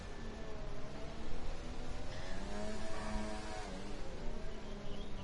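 Race car engine held at maximum revs during a rainy Singapore race, a loud continuous high-pitched whine with slight pitch shifts as the car passes, sustained without any pause.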